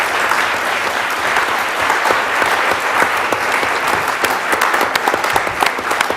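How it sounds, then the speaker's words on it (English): A crowd at a lightning talks event breaks into loud, sustained applause that fills the whole stretch with dense clapping. "can we get one more round of applause for our wonderful..."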